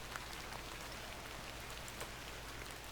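Steady rain falls and patters on surfaces in a moody folk-horror adventure game, The Excavation of Hobs Barrow, a dense continuous hiss with scattered drop taps and no voices.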